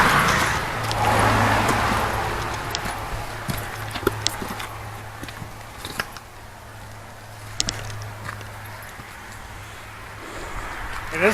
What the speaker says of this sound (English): As they hear the car drive by us.